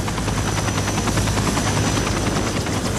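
A rescue helicopter at a mountain glacier rescue roars steadily and loudly, its rotor thudding in a fast, even pulse with a constant engine whine and nothing else breaking through.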